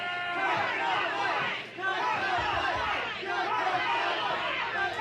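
Crowd at a PWE professional wrestling event in Ontario, Canada, a steady babble of many voices chattering and calling out throughout, with a brief dip near the middle.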